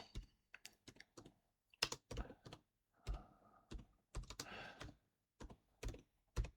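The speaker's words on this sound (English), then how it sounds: "So one-hand finger typing." Irregular finger taps on a computer keyboard, one hand pecking out keys in short clusters with pauses between, close and fairly quiet with no talking.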